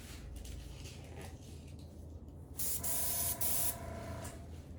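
An air compressor set to about 40 PSI blows air onto an acrylic paint pour, giving a faint hiss that swells into a louder, sharper blast for about a second before easing off.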